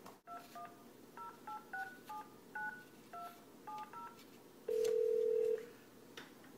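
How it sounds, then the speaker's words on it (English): A telephone number is dialed on an iPad, giving a string of about a dozen short, clear DTMF beeps in an uneven rhythm, then one longer steady tone, all over a faint room hiss with no talking. "I'm gonna just dial the number that I have here."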